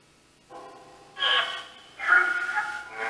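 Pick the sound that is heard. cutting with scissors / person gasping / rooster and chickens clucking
person gasping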